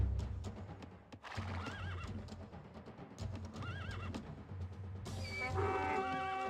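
Horse in a strategy video game, a near whinnying neigh repeated with clip-clop hoofbeats and galloping over busy battle ambience, with a brighter horn-like tone near the end.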